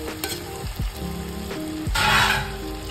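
Tomatoes and mashed eggplant sizzle steadily in a pan for bharit, with utensil clatter and a louder hiss of frying rising partway through, close and alone.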